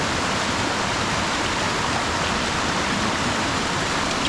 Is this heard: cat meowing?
no